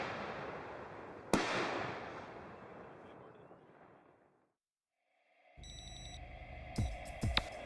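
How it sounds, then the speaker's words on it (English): Real fireworks shells go off outdoors on a film set: a sharp burst opens a long crackling, fading spray that dies to near silence, followed by a faint rumble, some tonal noise and several sharp pops. "to give them this nice little stacked effect of the real fireworks going off"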